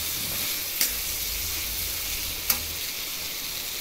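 Prawn fry masala with chilli and coriander powder sizzles in a pan in a steady hiss while being stirred, with two sharp clicks from the utensil and no speech.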